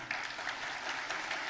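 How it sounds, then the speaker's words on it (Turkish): Audience at an Imam Hatip alumni congress in Sivas gives steady applause, faint and somewhat distant, continuous over a brief stretch without talking. "sizlerden kuvvetli bir alkış isteyecektim ama siz benden önce davrandınız"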